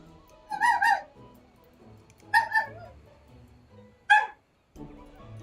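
A dog, heard during an open Monster Hunter World lobby, gives three short, clear barks or yelps spaced about two seconds apart, fairly close and loud, with quiet gaps between them.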